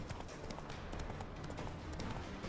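Horse hooves galloping in The Witcher 3 video game, a steady rapid clip-clop running continuously under a dense layer of game ambience and music.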